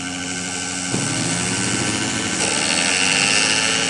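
Steady whining engine drone of an aircraft in the video game PK XD, loud and continuous with a shift in pitch partway through, heard alone without talk.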